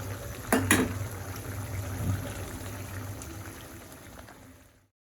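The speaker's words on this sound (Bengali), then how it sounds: "এখন হচ্ছে তেলের মধ্যে আলু আর হচ্ছে বেগুনটা একটু ভালো করে ভেজে নিব।" Potato and eggplant pieces fry in oil in a pan with a soft, bubbling sizzle, opening with a couple of quick clattering knocks before the hiss settles and fades out near the end.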